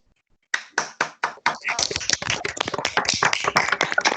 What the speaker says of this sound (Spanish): abran sus micrófonos y le digamos gracias a Alberto con un aplauso